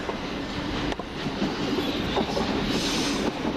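A passenger train passes through East Croydon railway station, with a steady, loud rumble and rolling clatter of wheels on track filling the whole stretch, and no voices.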